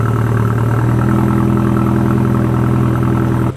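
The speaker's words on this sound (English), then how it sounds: "The car is running without an issue." A BMW N20 engine fitted with a B58TU high-pressure fuel pump idling steadily and close by, an even low rumble with no talking.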